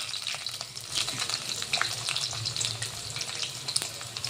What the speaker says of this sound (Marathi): तेल गरम झालेलं आहे. यामध्ये मी लसण टाकत आहे.